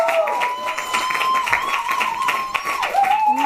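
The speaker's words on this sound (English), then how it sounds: "Please, another round of applause for Capital B" A crowd applauds the stage performer Capital B with brisk, continuous clapping, while a sustained tonal voice or sound glides along underneath it.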